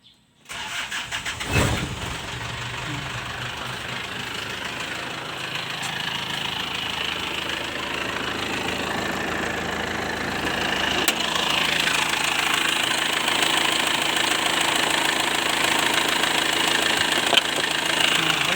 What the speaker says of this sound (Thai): เดี๋ยวติดเครื่องดูกัน